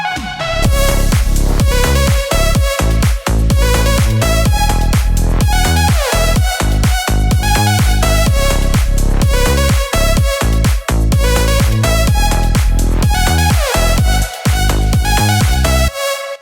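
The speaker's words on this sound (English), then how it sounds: "And here is a demo of the track I made for this video." A loud, dense slap house track pumps with a steady four-on-the-floor beat, punchy bass and a bright repeating lead, playing continuously without vocals.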